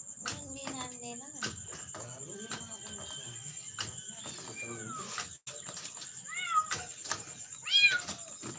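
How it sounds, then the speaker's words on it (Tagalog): Repeated meows from a cat sound close by in a rising and falling series, with a few drawn-out calls. A steady high-pitched tone and faint background talk run underneath. "Ito po yung isang pusa."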